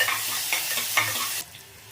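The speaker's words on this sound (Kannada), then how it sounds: "ಈರುಳ್ಳಿ ಸ್ವಲ್ಪ ಫ್ರೈ ಆಗಲಿ" Onions fry in a pan with a bright, hissing sizzle and a few scraping stirs, close up, before the sizzle suddenly drops to a quiet hum.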